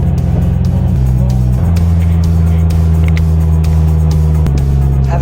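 A Polaris Slingshot with a 203-horsepower engine drives along, its steady low engine drone loud and close throughout, with a couple of shifts in pitch as the revs change.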